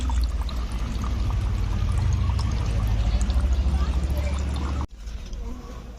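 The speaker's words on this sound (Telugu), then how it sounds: "ఇదిగోండి ఇంకా డ్రాప్ పడుతున్నాయి." Anaerobic compost tea made from kitchen waste draining from a container, a steady close pouring trickle that cuts off abruptly near the end, followed by softer dripping.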